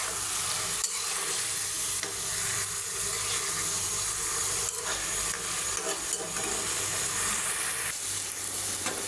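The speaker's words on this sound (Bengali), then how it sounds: "দিয়ে নেড়ে ছেড়ে পানিগুলো শুকিয়ে নেব" Beef mince stirred together with boiled chickpea dal in a pan while the liquid cooks off, producing a loud, steady sizzle with repeated scraping strokes close by.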